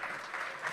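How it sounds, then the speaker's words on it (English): A crowd applauds a team named runner-up at a hackathon awards ceremony: brief, continuous clapping at a moderate, even level with no voice over it. "Can we have a round of applause?"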